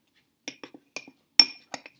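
A foamy volcano experiment mixture is stirred in a container, giving a few light, sharp clinks and taps of a utensil against the sides, spaced irregularly over silence.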